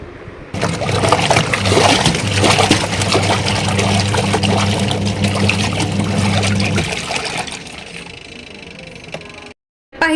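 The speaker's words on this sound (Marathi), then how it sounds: "बघितलं तुम्ही किती काळं काळ पाणी निघते त्याच्यामधून" Dirty black water draining out during household cleaning, a continuous gushing pour with a low hum underneath that eases off and stops near the end.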